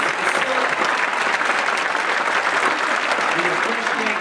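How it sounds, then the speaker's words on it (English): Steady, dense applause fills a church hall for the church community, loud and continuous throughout, with a faint murmur of voices mixed into the clapping. "Let's please give them a round of applause for giving us this facility."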